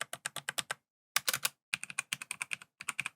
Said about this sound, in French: Le clavier, c'est un Logitech G513 carbone avec des switches brown,